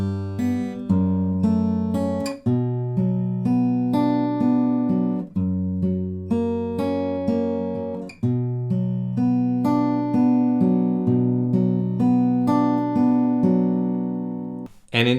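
Fingerpicked acoustic guitar plays the verse of the Christmas carol O Holy Night, no capo, in a steady plucked pattern of ringing chords and melody notes, close and clear with no voices.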